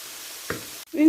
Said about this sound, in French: Une fois le beurre fondu, je rajoute les oignons émincés.